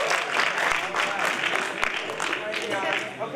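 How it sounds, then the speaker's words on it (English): An audience at a live show claps for a volunteer called up from the front row, a brief, lively round of applause with a few whoops and voices mixed in. "Can we give Brianna a nice round of applause?"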